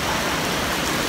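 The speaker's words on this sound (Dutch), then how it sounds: "Het begint knetter te regenen." Heavy rain pours down in a dense, loud, unbroken hiss, close and steady throughout the brief moment with no voices.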